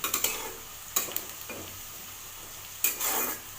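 Onion, ginger and garlic frying in a pan, a steady sizzle broken by several sharp scrapes and clinks of a spoon stirring against the metal.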